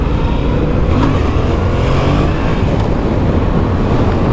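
A 2017 Yamaha FZ-07 (MT-07) motorcycle with ABS and a grunty engine, revving loud and close, a continuous throaty engine roar with slight rises in pitch and no talk.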